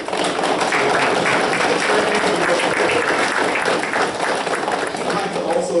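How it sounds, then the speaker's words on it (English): Police academy recruits and a large audience at a graduation ceremony applaud steadily, dense continuous clapping filling the hall at full volume for several seconds. "give a round of applause to the family members and friends who supported you"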